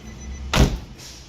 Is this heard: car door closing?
yes